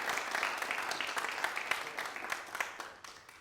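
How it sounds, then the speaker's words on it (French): Brief, steady applause from a studio audience on a French-language TV show, dense and fairly close, fading slightly at the end. "Merci de l'applaudir comme il se doit."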